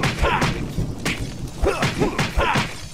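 A knife storm attack from the Finn & Jake's Epic Quest video game, with a rapid run of heavy thuds, whooshes and crashing impacts landing roughly every half second, loud and close.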